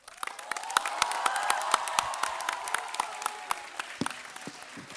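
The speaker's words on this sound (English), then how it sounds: "Let's call for a loud cheer" An audience at a school valedictory ceremony bursts into applause and cheering, with dense clapping swelling, holding steady, then thinning into scattered claps near the end.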